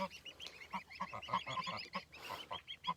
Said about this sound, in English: And the goslings are all very talkative. They chatter with their mothers quite a bit.